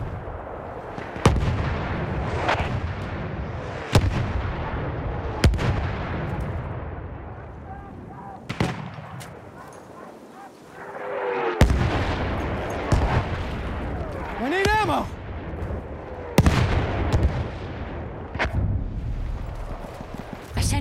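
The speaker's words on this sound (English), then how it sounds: "Wait for the enemy artillery barrage to stop firing." Heavy artillery shells land one after another in a Battlefield match in the Argonne Forest, booming loud and near at irregular intervals over a low rumble, with sharp crashes and a whistling incoming round.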